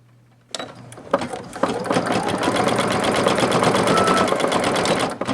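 A Singer Futura XL550 sewing machine auto-embroiders with metallic thread, starting after a brief pause and then stitching in a fast, steady, even mechanical chatter for several seconds, close and prominent.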